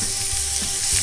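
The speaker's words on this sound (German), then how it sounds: "der Grill ist vorgeheizt und wir grillen das jetzt an" Veal fillet wrapped in puff pastry searing on a preheated gas grill, giving a steady, close broadband sizzle that holds at an even level for the whole moment, with no voices over it.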